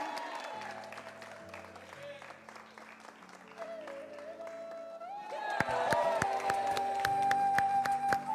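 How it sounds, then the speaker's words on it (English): Guests at a Hindu wedding ceremony break into applause, the clapping swelling louder near the end over sustained music, with cheers mixed into the crowd noise. "When you hear a big round of applause, please."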